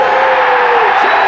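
A darts crowd at a 1985 England versus the World match roars and whoops in one loud, sustained burst of cheering after a treble, with a commentator's voice over the top.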